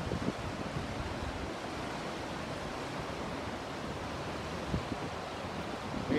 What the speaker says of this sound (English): Yellowstone River, it's raging.